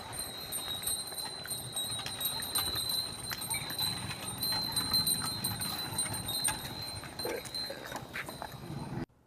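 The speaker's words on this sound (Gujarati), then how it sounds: "તમારે સાંભળવી છે બળદના ગળામાં બાંધેલી ઘંટડીઓ?" Small bells tied around the necks of bullocks pulling a bullock cart jingle continuously, with clip-clopping hooves and rolling cart noise underneath, moderately close and without voices.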